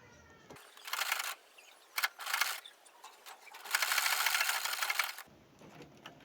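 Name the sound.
sewing machine stitching fabric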